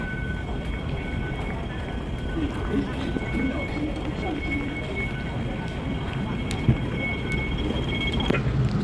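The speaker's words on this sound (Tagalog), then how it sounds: "Dito na yung train, guys." A train arrives at a station with a steady, loud rumble and a sustained high squeal running throughout, while voices murmur in the background.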